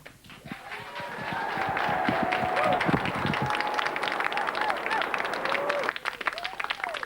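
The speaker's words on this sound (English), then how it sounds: "Round of applause for the crazy guy there with the hat on." A comedy club audience claps and cheers for a stand-up comedian at a live television show. The applause builds quickly and carries on close and busy, while a host talks over it with tonal voices.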